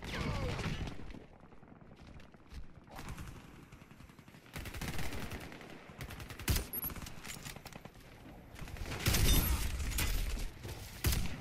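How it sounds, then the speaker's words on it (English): Suppressed McMillan CS5 bolt-action sniper rifle fired in the shooter game Warface, with several sharp muffled shots spaced through the stretch over a steady bed of game ambience. "Here you can see how awesome this weapon is with a silencer."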